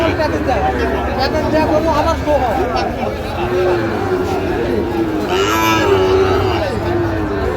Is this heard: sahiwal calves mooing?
yes